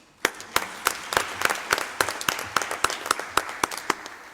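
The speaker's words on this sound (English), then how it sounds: "please give a big applause to our amazing panelists" Scattered hand claps form light, sparse applause for panelists at the end of a finance session at the Africa eWeek 2018 conference, a few crisp claps repeating briskly in a small room.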